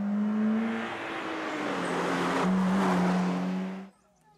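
A damaged rally car attacking a gravel stage, its engine holding a steady droning note that rises and falls slightly as it passes nearby, then cuts off abruptly near the end.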